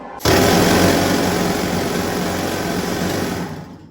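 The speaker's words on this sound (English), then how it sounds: "So the sound that you heard now, that was the jackhammer drill." A loud, steady mechanical pounding kicks in abruptly and keeps going with a rapid, rattling pulse, a jackhammer drill breaking rock close by in a mining demonstration at Gold Reef City.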